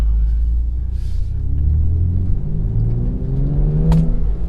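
A 2020 BMW X3 M accelerates hard, its engine rumble rising steadily through the gears from inside the cabin, a deep, loud and continuous roar with shifting pitch.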